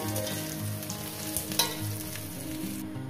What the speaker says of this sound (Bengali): বন্ধুরা আমি বেগুনটাকে ভেজে নিয়েছি, দেখেন বেগুনটাকে সুন্দর করে আমি ভেজে নিয়েছি।